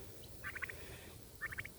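Turkeys gobble in two quick, faint rattling bursts about a second apart, set against a quiet outdoor background.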